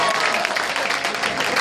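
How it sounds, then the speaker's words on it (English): Crowd at a Beyond Wrestling show cheering and applauding, a dense continuous roar of claps and shouts filling the whole moment at steady loudness. "I want to hear Brohim cheer for you."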